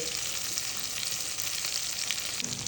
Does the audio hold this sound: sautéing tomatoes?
yes